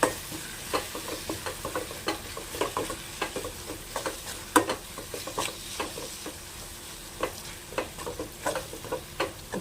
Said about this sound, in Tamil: இது எல்லாத்தையும் நல்லா மிக்ஸ் பண்ணி விட்டுடலாம்.